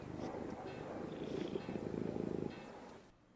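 A fat cat purrs in The Pillars of the Earth video game, a steady close rumbling purr with a few pulsing breaths, fading out at the very end.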